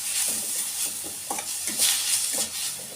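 Bottle gourd frying in ghee for a payasam, a steady close sizzle with repeated scraping stir strokes roughly every half second, no voices.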